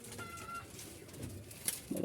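Jalali pigeons coo softly in a loft, with low murmuring coos building near the end amid faint background rustle and no talking.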